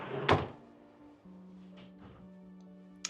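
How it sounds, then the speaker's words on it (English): Self-closing wardrobe drawers on the Regent Seven Seas Grandeur cruise ship shut with a soft close thud, followed by a quiet hum, faint clicks and a final light knock. "Oh, nice self-closing drawers."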